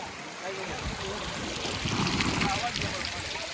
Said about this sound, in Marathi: इथे बघू शकता पाणी जे की इकडनं डोंगरावरून आलेलं आहे ते बघू शकता तुम्ही